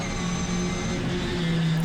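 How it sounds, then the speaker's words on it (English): A Classic Mini Miglia race car wheelspins on the track during a sprint practice day, struggling for grip on worn second-hand tyres. A loud, steady engine drone with a tonal whine holds throughout and rises slightly toward the end. "it's just lighting the wheels up"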